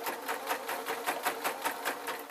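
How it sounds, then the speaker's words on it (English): A sewing machine stitches a seam on a simple waistcoat's fabric, its needle beating in a quick, steady rhythm of about four strokes per second at close range with no voices. "I'm going to run over with the sewing machine"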